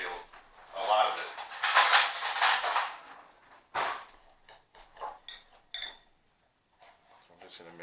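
Bacon cure mixture being stirred in a bowl before coating a pork belly: scraping, clinking utensil strokes against the dish, busy and loud at first, then thinning into scattered knocks and short pauses.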